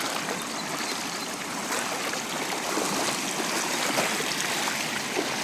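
Irrigation water gushes steadily from a pipeline beside a groundnut field, a dense, continuous close-up rush with no pauses or voices.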